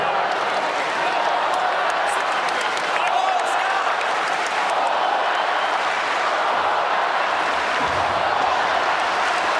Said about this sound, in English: It's like a soccer crowd down there, Todd, right now.